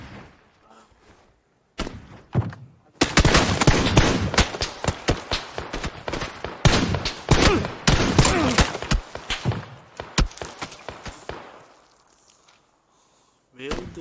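Rapid bursts of video game gunfire crackle in clusters, loud and close, with a voice talking briefly near the start.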